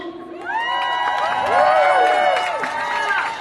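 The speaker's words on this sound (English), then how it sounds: "So a big hand of applause to Sistering who serves the food." At a Raise the Rates rally, an outdoor crowd breaks into cheering and whooping that swells in the middle and carries on loudly, with overlapping voices and some clapping.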